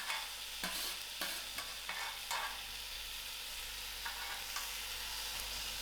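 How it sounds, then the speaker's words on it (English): Pumpkin pieces fry in oil in a pan, a steady soft sizzle with occasional stirring scrapes and clicks, fairly quiet and close. "I will allow this pumpkin to fry for about 2 minutes."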